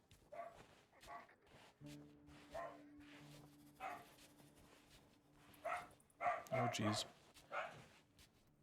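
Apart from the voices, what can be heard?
dog barking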